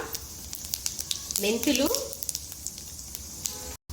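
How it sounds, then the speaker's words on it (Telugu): Mustard seeds and cumin sizzling and popping in hot oil in a pan for spicy egg pulusu, a steady close crackle with scattered sharp pops and a brief faint voice-like murmur midway. "ఆయిల్ కాగిన తర్వాత ఆవాలు చిట్టుపట్లాడిన తర్వాత జీరా"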